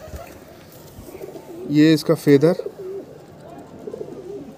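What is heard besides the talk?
pigeon cooing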